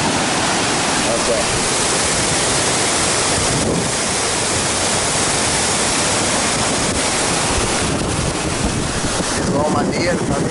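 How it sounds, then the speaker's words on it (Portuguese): The Rio Doce rapids rush and roar in a loud, continuous broadband wash of churning water, with wind buffeting the microphone throughout. "Aqui é a famosa corredeira. Corredeira, muito doida, galera."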